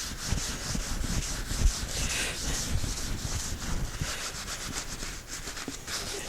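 Paper towel rubs against a spinning wood workpiece on a lathe, a soft continuous scuffing hiss with slight rhythmic pulses, faint and close, no voices.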